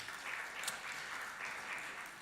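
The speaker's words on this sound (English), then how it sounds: "Round of applause for him." A panel discussion audience gives a round of applause for a chief and chairman, a soft, even spread of clapping heard at a distance and lasting throughout.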